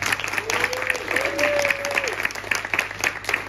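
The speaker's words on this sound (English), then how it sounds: "give them a big round of applause, please" Steady audience applause at a comedy hypnotist show on a seaside pier, many hands clapping evenly throughout while a voice briefly speaks over it.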